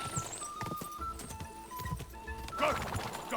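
Horse hooves gallop in Kingdom Come Deliverance II with a steady clip-clop, close and fairly loud, while voices talk excitedly over the ride.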